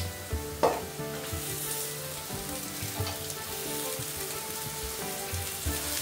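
Amaranth leaves hit a hot pan of browned onions and fry with a steady crackling sizzle, broken by clinks and scrapes of a spoon stirring, close and continuous with no talking.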